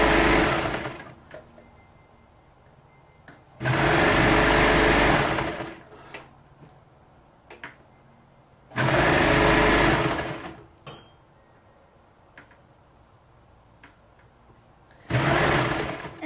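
A sewing machine or serger stitching a stretched knit T-shirt neckband in three loud, close bursts of a few seconds each, with quiet handling noises in the gaps between runs.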